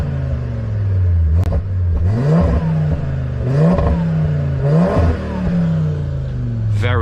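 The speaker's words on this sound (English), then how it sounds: "Very, very good sound. Absolutely love that 5-cylinder." Audi RS3 five-cylinder engine with its exhaust valves open, loud and close, revving up and down repeatedly with a deep, raspy, rising and falling drone and crackles between revs.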